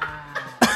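A single short, sharp cough close to the microphone, ending a brief stretch of low vocal sound.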